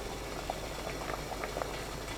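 Water boiling in a steamer, a low steady rumble with small bubbling pops scattered throughout, faint and continuous.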